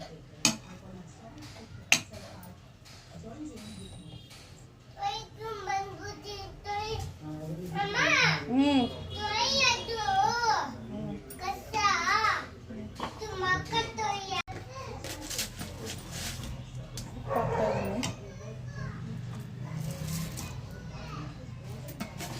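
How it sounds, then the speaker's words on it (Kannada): A young boy babbles and makes playful vocal noises in a home kitchen, his voice rising and falling close by, with occasional sharp clicks and light clatter of kitchen utensils. "ನನ್ನ ಮಗ ಗಲಾಟೆ ಮಾಡ್ತವನೆ ಸ್ವಲ್ಪ ಡಿಸ್ಟರ್ಬೆನ್ಸು"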